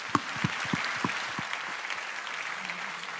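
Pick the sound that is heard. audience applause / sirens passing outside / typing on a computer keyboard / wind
audience applause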